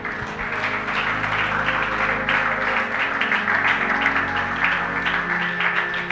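A church congregation applauds at a Sunday worship service, a steady, dense wash of clapping that keeps up without a break, with a sustained tone running under it.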